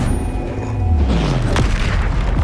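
A heavy spell-impact boom from the Flipendo charm in the video game Hogwarts Legacy, a deep descending thud that swells loud and close, followed by a sharper crack and rumbling tail, with no talk.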